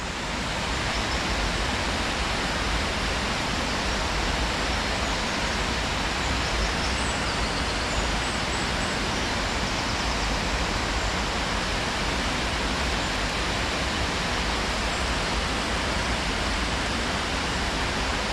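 Cotter Force waterfall pours steadily in a broad, unbroken roar of falling water, loud and close throughout with no talking.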